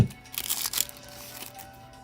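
A Pokémon trading card pack's foil wrapper crinkles and crackles as scissors snip it open, a short burst of close rustling that fades into quiet room tone.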